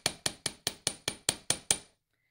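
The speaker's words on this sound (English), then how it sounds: "we want to place this face down on our steel block and just lightly hammer" A hammer lightly taps a wire clasp laid face down on a steel block: nine crisp, evenly spaced metallic strikes, close and clear, then silence.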